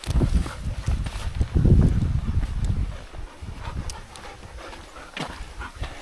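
Dogs splash and romp in a river, with irregular bursts of thrashing water and paddling, loudest early on, then lighter sporadic splashes over a steady outdoor background.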